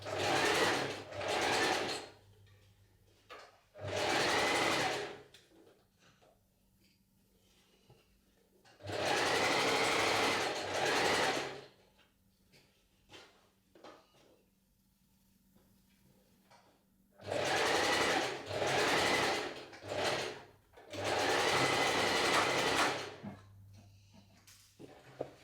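A sewing machine stitches the side seams of a top at a 1.5 cm seam allowance, in four loud bursts of steady whirring separated by quiet pauses for repositioning the fabric.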